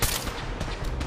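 A dense, loud burst of rapid gunfire in the video game Fallout 4 fills the whole second with continuous overlapping shots.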